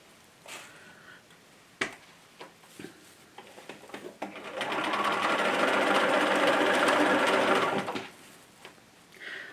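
Sewing machine stitching binding on a spring table runner: after scattered handling clicks and taps, a steady close mechanical whir runs for about four seconds, then stops.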